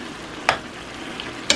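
Taco fajita filling frying in a pan, a soft continuous sizzle broken by two sharp scrapes of the spoon against the pan as it is stirred.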